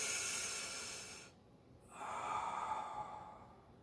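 Deep belly breathing during an at-home upper-body workout: a long, strong exhale, a brief pause, then a slower, steady breath, close and audible with no talk.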